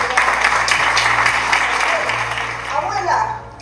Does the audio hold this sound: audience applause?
yes